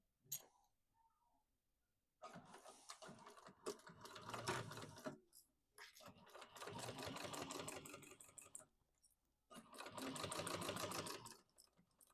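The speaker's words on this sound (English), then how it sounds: "We're going to top stitch it along this bottom to close up the slip pocket and baste up the other side" Sewing machine top stitching along the bottom of a messenger bag slip pocket, running in three separate bursts of rapid, even needle clatter with quiet pauses between, heard close and alone.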